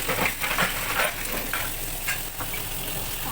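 Fish frying in a pan, producing a steady close sizzle with occasional louder bursts of spitting oil and no talking.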